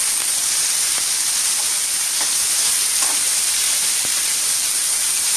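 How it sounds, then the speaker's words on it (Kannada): Green chillies and tomatoes frying in a pan for a spicy green tomato chutney, a steady loud sizzle with faint stirring scrapes and occasional small pops, no voices. "ಹಸಿಮೆಣಸು ಮತ್ತು ಟೊಮೆಟೊ ಚೆನ್ನಾಗಿ ಫ್ರೈ ಮಾಡ್ಕೊಳ್ಬೇಕು"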